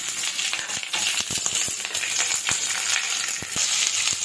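Large chopped onions sizzle loudly in hot oil in a home kitchen, a dense steady crackle with scattered pops and spoon clicks against the pan, heard alone without talk.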